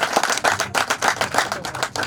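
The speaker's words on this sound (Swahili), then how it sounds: "Nipige makofi tafadhali." A graduation ceremony audience claps steadily in broad, dense applause, loud and continuous with slight swells, no voices standing out.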